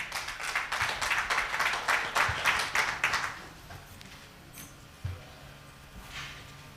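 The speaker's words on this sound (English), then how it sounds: "Please give them a round of applause." Meeting audience at an annual general meeting breaks into applause, a dense burst of clapping for about three seconds that fades out, leaving a quiet room with a few scattered claps.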